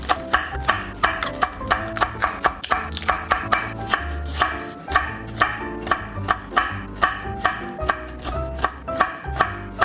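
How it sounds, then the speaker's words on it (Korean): Cheongyang chili peppers and onion being chopped with a knife on a cutting board, with quick, steady, close knocks in an even rhythm that pause briefly about halfway through. "요 간장에다가 청양고추하고 양파 조금 썰어 넣을게요"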